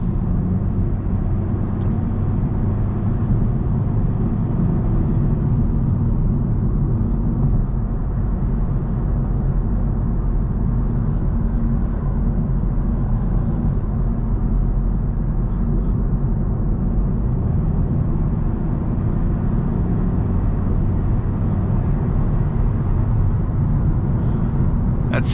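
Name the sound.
road noise inside 2022 Honda Civic Sport at 65 mph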